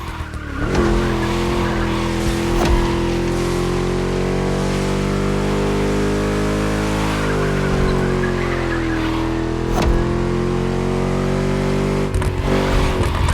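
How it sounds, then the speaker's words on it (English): A V8 car engine roars steadily in the racing game The Crew Motorfest, with loud sustained revving, shifting pitch and tires squealing, all close and continuous with no pauses. "Just listen to that V8 like a chunky, down-tuned guitar riff."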